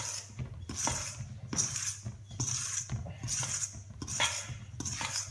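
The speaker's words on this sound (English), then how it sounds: "using a fork, I'm initially going to fold the flour inwards towards the eggs" A fork works flour inward toward eggs for cannoli dough in a bowl, scraping and clinking against the dish in regular strokes roughly once a second, close and moderately quiet.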